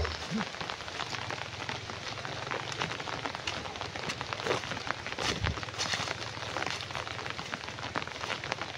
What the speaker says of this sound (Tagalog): sobrang lakas ng ulan dito